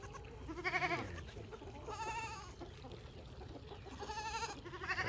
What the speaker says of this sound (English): Got a lap full of goats.